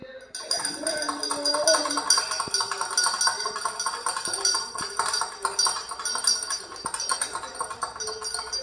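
A spoon clinks against a glass while stirring nannari sarbath, with repeated bright ringing taps in an uneven rhythm, close and clear, with a voice talking underneath.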